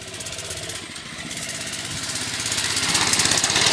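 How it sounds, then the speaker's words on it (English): A small mini bike engine runs close by with a rapid, buzzy putter that grows steadily louder as the bike approaches. "Oh crap, here comes the bike."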